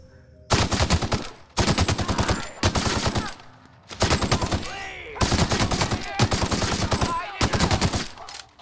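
Rapid automatic assault rifle fire from The Outer Worlds, sustained bursts of gunshots separated by brief pauses, loud and close, with no talking.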